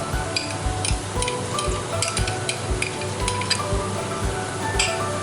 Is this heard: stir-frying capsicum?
yes